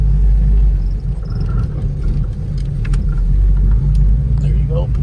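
A manual stick-shift car pulls away slowly, its engine a loud steady low rumble heard from inside the cabin, with no talk over it.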